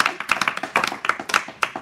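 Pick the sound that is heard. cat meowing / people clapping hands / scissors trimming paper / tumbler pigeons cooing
people clapping hands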